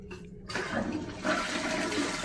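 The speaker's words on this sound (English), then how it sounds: "toilet here, flush." A toilet in a Hilton Los Angeles Airport hotel bathroom is flushed, and after a brief quiet moment a loud, rushing gush of water fills the room and keeps going steadily to the end.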